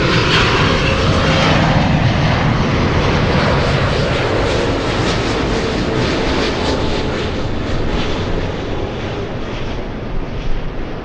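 An Austrian Airlines airliner arriving from Vienna at LAX roars past, its loud engine wash and rushing noise slowly easing as it passes, with some wind buffeting and no talk.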